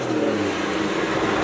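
A single cab pickup truck accelerates hard, its engine roaring loud and steady throughout the short burst with no voices.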